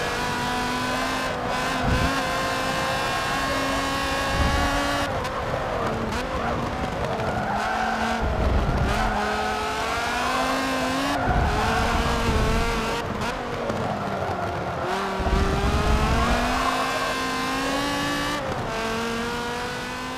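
A Dodge Viper GTS SRT roars through gear changes and revs in Forza Motorsport 7, loud and continuous with tire squeal and skids, no talking.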